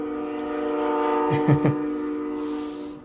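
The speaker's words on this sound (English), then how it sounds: "Sorry about the train in the background." Train passing on nearby railway tracks, its horn sounding a steady chord with brief louder blasts midway, fairly loud and close, heard indoors with no talking over it.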